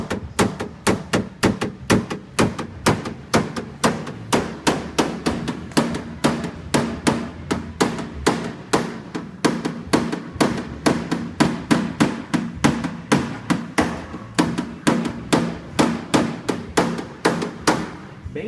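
Hammer tapping a wooden block held against a car body panel during paintless dent repair, a fast, even series of light knocks repeated steadily, close and with no talk.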